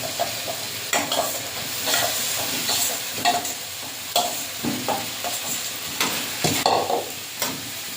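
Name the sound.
fried potatoes stirred into frying spice masala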